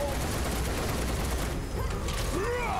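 Rapid gunfire from Barret's weapon in Final Fantasy VII Rebirth, a dense continuous burst of shots with mechanical clatter filling the whole stretch, loud and close over game effects.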